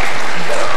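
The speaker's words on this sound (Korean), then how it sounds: "우리 다 같이 한번 와 하면서 땡큐 박수 했으면 좋겠습니다" A congregation at a Sunday church service cheering and clapping for the church choir, a loud, brief burst of dense applause close by.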